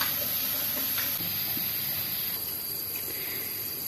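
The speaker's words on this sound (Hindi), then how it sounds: "दूध को अच्छी तरह बॉयल आ चुका है।" Milk at a full boil in a pot while making a custard dessert, a steady close hiss and bubbling that stays even throughout with no talking.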